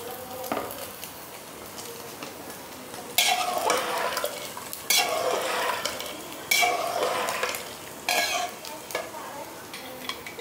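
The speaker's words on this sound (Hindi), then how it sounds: "और अब इसको अच्छे से चला देंगे।" A spoon stirs and scrapes through rice for matar paneer pulao in a pressure cooker with light sizzling, in repeated bursts of stirring with brief pauses between; no talking.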